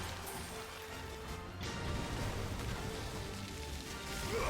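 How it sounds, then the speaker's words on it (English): Acid rain spell in the Final Fantasy XVI video game, a crashing burst followed by a dense, steady patter of rain-like sizzle mixed with game music, moderately loud. "Gonna do the acid rain."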